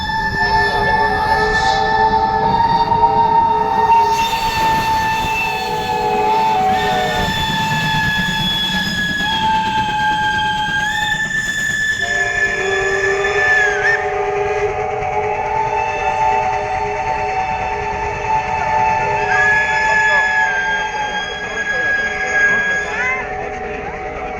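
Steam locomotives at a parade of steam engines roll past with sustained whistle and horn blasts layered over rumbling wheels and rail noise, loud and close throughout, with brief voices in the crowd.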